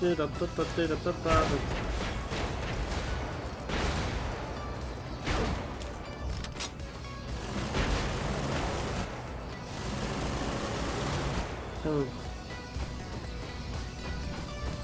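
Mech gunfire in the Brigador video game: rapid, repeated bursts of shots and heavy impacts running steadily throughout, with someone talking over the action.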